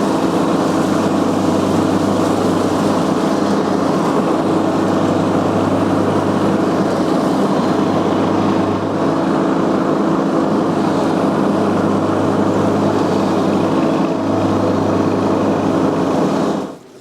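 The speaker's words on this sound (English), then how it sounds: "So now it's time to cut the grass" A lawn mower cutting grass runs as a steady, loud engine drone with a persistent low hum, close by and unbroken for the whole stretch before cutting off abruptly at the end.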